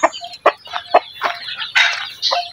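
Hens in a backyard brooder setup with a rooster nearby cackle and cluck close up in a string of short, uneven bursts, one call stretching into a longer squawk near the end.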